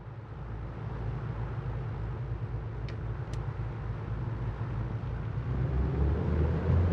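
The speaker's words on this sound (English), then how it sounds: "Lovely noise as we try and take off on this very bumpy, very dirty track" A2A Aerostar 600 twin-engine aircraft in a flight simulator rolling for takeoff on a very bumpy, dirty track: a steady, loud low engine drone with rumbling thumps that builds slightly toward the end, with no voices.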